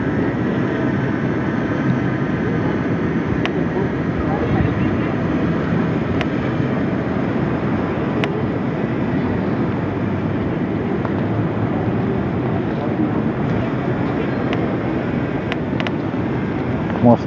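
Strong wind roars steadily against a DJI Mini 2 drone in flight over the coast at Ilha dos Lobos, Torres, with a continuous loud broadband rush and buffeting throughout, no talk.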